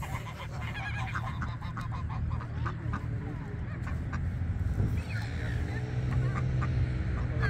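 Geese honk and call repeatedly at Punta Mogotes, with layered overlapping cries at close to mid range over steady outdoor background noise, with no talking.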